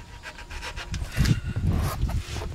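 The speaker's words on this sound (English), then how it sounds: "I'm gonna see if I can get this oil filter to break loose." Hands work a snug oil filter loose on a car during an oil change, producing short, irregular rubbing and scraping bursts at close range, fairly quiet with no talking.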